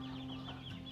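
Chickens housed in three-tier stacked cages cluck softly and briefly, a faint, close murmur of farm fowl.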